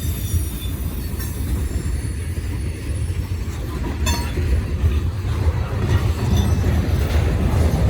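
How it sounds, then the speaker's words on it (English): A long freight train led by a Seaboard unit rolls past steadily through heavy snow, with a continuous low rumble of wagons, faint wheel squeal and occasional clinks, close and loud throughout. "Wow, this is a long train here."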